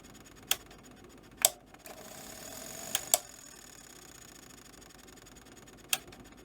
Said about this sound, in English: it's dragging on the underside of the head drum motor, so that's fine.